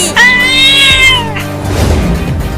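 A single drawn-out, high-pitched cartoon cat meow, loud and close, followed by a soft rustling tail-off.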